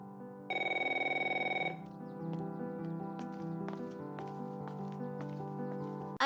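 A telephone rings once in a home, a loud electronic ring of about a second, followed by quieter clattering and household noise.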